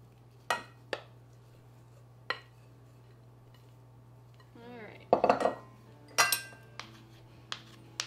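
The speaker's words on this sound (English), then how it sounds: "You just want to spread it out evenly in the bottom of your pan." A utensil spreads a very sticky mixture across the bottom of a baking pan, giving sparse sharp metal clinks and taps. A short scraping smear sits in the middle of a quiet room, with no talking.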